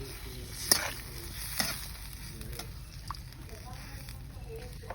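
Green papaya and fish cooking in a pan: a continuous sizzle under a few scraping stirs and soft clicks of the utensil against the pan, close and moderately loud.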